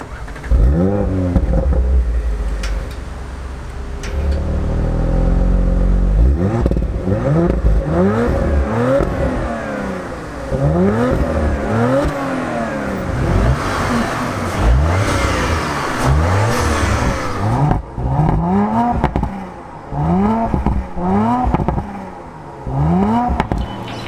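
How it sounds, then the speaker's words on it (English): A powerful V8 engine of a 2018 Audi RS5 revs hard again and again, each rise climbing to a high, loud wail before dropping back, with a steady rumble between. "That was an awesome sounding, high revving, just overall amazing V8"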